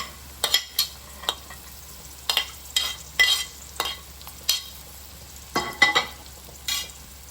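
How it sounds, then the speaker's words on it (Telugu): Prawns fry in a pan for an Andhra-style prawn fry with green chillies, giving a steady low sizzle broken by sharp clattering scrapes of a spatula stirring at irregular intervals, close and with no talking. "ఇప్పుడు మనం మిగిలిన ప్రాన్స్ వేసుకోవాలి."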